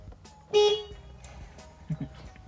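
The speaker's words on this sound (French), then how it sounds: "On va tester le klaxon quand même." A single short car horn honk from a Renault 14, fairly close, followed by a couple of soft clicks in an otherwise quiet car interior.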